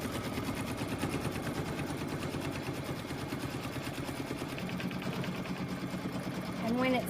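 An embroidery sewing machine stitches around a hooped design with a steady, rapid mechanical chatter of the needle that runs unbroken and close, ending with a brief rising whine.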